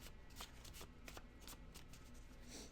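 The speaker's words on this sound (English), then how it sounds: "One more shuffle." Tarot cards being shuffled in a steady run of soft, rapid riffles and slaps, close and fairly quiet, with no talking.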